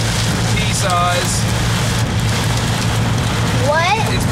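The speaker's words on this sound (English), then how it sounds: "It's pea size hail." Pea-size hail falls during a storm, a steady dense hiss of small impacts running throughout, with people talking briefly over it.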